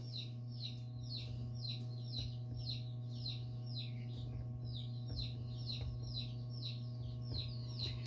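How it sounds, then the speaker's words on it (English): Chickens cluck repeatedly in a pottery studio during a casserole handbuilding session, a steady run of short calls over a constant low hum, fairly close and moderately loud. "Chicken, be quiet."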